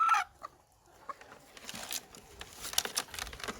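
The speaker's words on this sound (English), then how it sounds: "So outside we have all this hens and roosters." Hens and roosters on a farm during light drizzle cluck in short, scattered bursts, with a sharp call at the start and softer pecking patter after, fairly near against quiet rain ambience.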